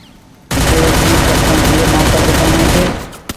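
A sustained burst of rapid automatic MP5 fire in a shooting video game, loud and dense, lasting a few seconds before cutting off, followed by a single faint click.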